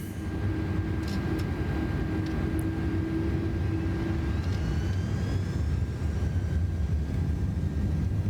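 An Airbus A330 takes off in Microsoft Flight Simulator 2024, its jet engines giving a loud, steady roar with a constant low rumble and a thin whine rising gradually.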